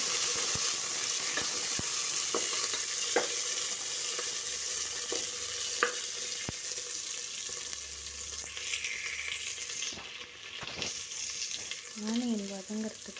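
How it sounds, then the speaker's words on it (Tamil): Chopped onions with a pinch of salt sizzle steadily in a pan for mushroom biryani, a continuous close frying hiss broken by scattered clicks and scrapes of stirring. "ஆனியன் வதங்கிறதுக்கு கொஞ்சம் சால்ட்டு."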